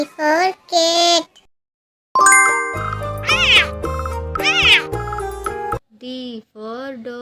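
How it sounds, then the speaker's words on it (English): Cartoon-style cat meows on a children's phonics track, a couple of clear meows followed by bright jingling chimes and musical tones, then more meow-like calls, loud and up front with no talking. "C for cat."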